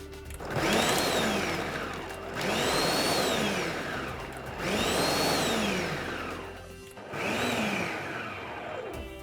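A Kenwood MultiOne food processor pulse-chops a whole onion in four loud, even bursts, each motor whir rising and falling, with brief gaps between pulses and no talking.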